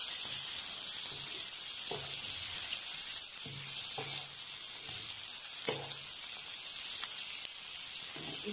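Capsicum frying in a pan gives a steady, close hiss of sizzling oil throughout, broken by a few soft stirring scrapes and clacks, with no speech.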